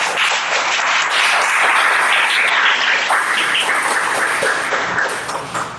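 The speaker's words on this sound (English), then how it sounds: "If we can get applause for the panel." Audience at a Hull House literary panel on the West Side Writers Guild applauds the panelists, a dense, steady wash of many hands clapping close and loud for about six seconds, tapering slightly at the end.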